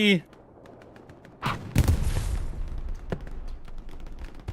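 A grenade explodes on an outpost in the console World War II shooter Hell Let Loose, a sudden loud burst followed by a rumbling tail and scattered distant gunfire.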